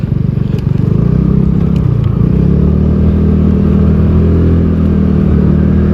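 A TVS NTORQ 150 scooter engine pulls under throttle, a loud close buzzing drone that rises in pitch briefly then holds steady while riding, with no talk over it.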